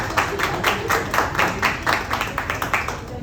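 An audience at a poetry open mic claps in a steady, rhythmic beat, roughly two claps per second, close and moderately loud over faint room noise.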